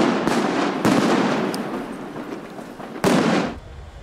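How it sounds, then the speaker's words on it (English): Police fire tear gas and stun grenades at protesters during a street clash: sharp loud bangs and pops recur over a few seconds, with a noisy crowd-and-street rumble in between. "In response, police fired tear gas and stun grenades."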